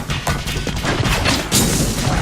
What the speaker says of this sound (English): He can't even stand up to my rocket-propelled grenades.